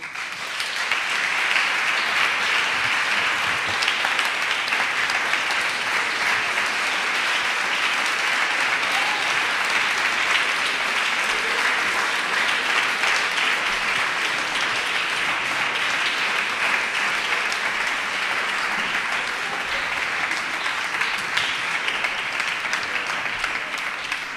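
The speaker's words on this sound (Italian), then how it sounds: "lascio la parola a Craig Thompson, che accoglierei con un grande applauso." Sustained audience applause fills a hall as a speaker is welcomed to an Italian book event, a dense and loud wash of many hands that holds steady for the full length.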